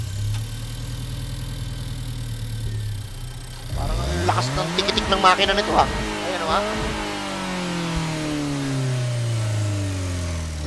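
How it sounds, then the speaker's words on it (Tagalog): Race car engine in Gran Turismo Sport during an Asia Nations Cup online round, idling loudly and then revving up and down with steady engine drone, while someone talks over it. "Parang ang lakas ng tikitik ng makina nito ha."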